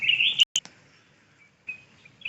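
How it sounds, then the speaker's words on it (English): Birds chirp outside a hotel room at Riu Tikida Palmeraie, a burst of bright tweeting followed by a few sharp clicks and then scattered thinner calls, close and fairly clear against a quiet background. "so we're deafened by the birds"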